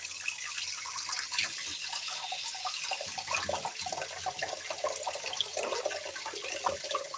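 Water runs steadily from a tap as something is rinsed off, a constant close splashing hiss with small drips and surges and no talking.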